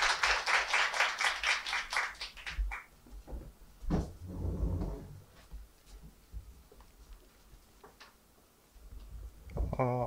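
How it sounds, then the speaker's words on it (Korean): A small seminar audience offers a brief burst of sparse, rhythmic clapping in the first few seconds, which quickly fades into a quiet room with scattered thumps and shuffling noises. "여러분 큰 박수 부탁드리겠습니다."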